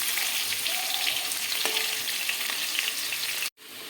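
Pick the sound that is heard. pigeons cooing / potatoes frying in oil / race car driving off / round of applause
potatoes frying in oil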